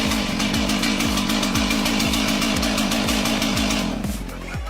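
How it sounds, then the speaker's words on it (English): A chainsaw runs loud and close during tree cutting, its engine rasping with rapid revving pulses before the sound eases slightly at the end. "That chainsaw was still spinning when it dropped."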